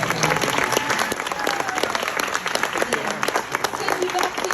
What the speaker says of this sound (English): How about a big round of applause for Shayla?